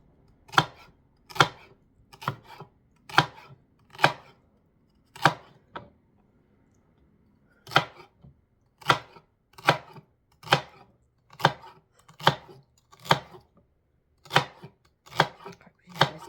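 Knife chopping through slow-cooker lamb shanks on a board, a steady run of sharp, close cuts in quick rhythm with a brief pause midway, then resuming at the same pace.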